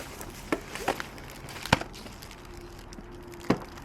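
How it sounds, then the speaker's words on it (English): A Giraffe Tools Grandfalls G20 wall-mount pressure washer unit is handled and set down close by, giving a few sharp knocks and one firmer thud spread over a few seconds, with no talking. "we will grab the unit and we'll plonk it down in front of the camera"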